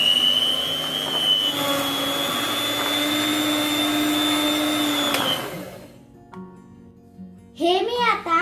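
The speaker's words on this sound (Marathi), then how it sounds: "याला मी आता हाय स्पीड वरती ब्लेंड करून घेते." An electric blender runs at high speed mixing cake premix, a loud steady whine for about five seconds before it winds down and stops, followed by brief clinks and a voice at the end.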